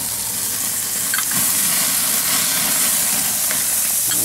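Beer poured over speckled trout grilling on the half shell on a barbecue pit sets off a loud, steady sizzle and hiss of steam up close, continuous throughout with no speech.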